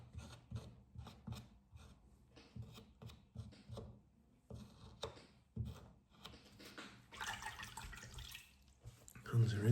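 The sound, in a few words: water running while rinsing hands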